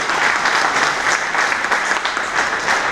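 At an honour ceremony for Narharibhai Amin, a crowd of guests and leaders breaks into loud, dense applause, many hands clapping together steadily throughout with no pauses.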